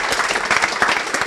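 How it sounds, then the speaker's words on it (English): Audience applause for a guest speaker at a Startup Grind Scotland event, a brief burst of dense, steady clapping from a crowd with no pauses. "A round of applause."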